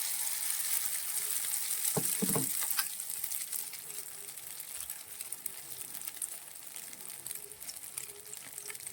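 Egg and vegetable mixture for a Spanish omelette poured into a hot frying pan, a brief splash and clatter, then a steady hiss of frying that carries on evenly.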